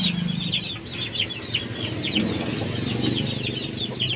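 Pet chickens clucking close by in a steady stream, with bursts of wing flapping and rustling mixed in, no voices.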